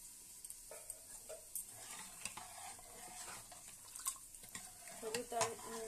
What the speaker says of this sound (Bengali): হলুদ আর নুনটা একটু খুব ভালোভাবে নেড়ে চেড়ে মিশিয়ে নিচ্ছি।